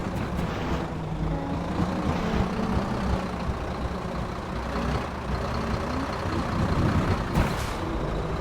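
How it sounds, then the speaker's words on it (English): A heavy diesel mining vehicle in the video game Sable rumbles steadily at idle, a loud continuous low engine drone with clanking mechanical texture and no speech. "Diesel engine for sure, yeah."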